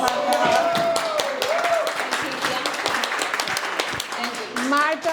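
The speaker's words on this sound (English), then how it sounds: "And applause for Marta." Audience applause for a woman named Marta at a Latinas wine club anniversary panel gathering, a dense steady clapping from a crowd lasting several seconds, with voices and cheers mixed in over the top.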